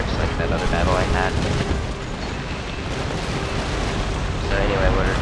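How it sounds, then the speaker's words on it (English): Warships in Empire Total War, Great Britain against Sweden, fire cannons in a steady, dense roar of booming broadsides that lasts throughout, rising and falling slightly in loudness. "what we're doing is getting a lot of fire on this one brig"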